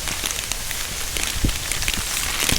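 Rain falls steadily outdoors during crab trapping, a continuous hiss of drops with occasional louder taps and splats on a nearby surface, with no talk.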